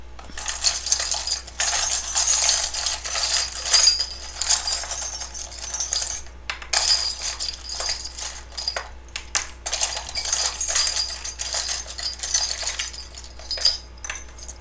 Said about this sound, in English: So I don't actually look in this charm box as I shuffle around and get you guys some charms